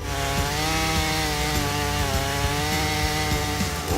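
A Jonsered CS2240 chainsaw cuts through wood, its engine a loud, steady buzzing whine with slight dips in pitch as the chain bites, heard up close and continuous throughout.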